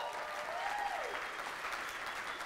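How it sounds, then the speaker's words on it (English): Audience applause at a business talk event, steady clapping from a crowd filling the whole moment, moderately distant with a faint voice briefly over it. "Let's give him a big round of applause for that."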